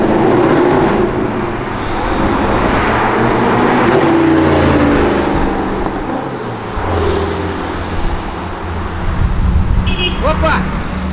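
A steady, loud, low roar from a car engine, an Opala racing against an Audi R8 V10, holding throughout under traffic-like noise, with voices speaking over it.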